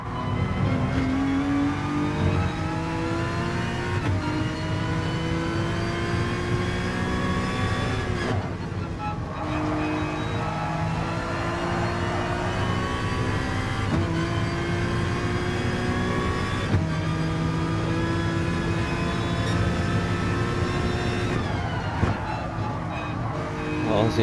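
A race car engine revs hard in the video game GT Sport during an FIA manufacturer series race, loud sustained whine climbing through gears with repeated shift drops, continuous and close.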